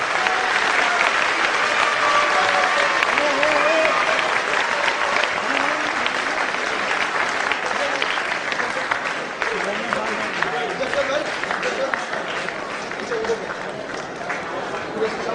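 Sustained audience applause at a human rights protection council event, a thick, even roar of many people clapping that carries on for the whole stretch, with faint voices mixed into the crowd noise.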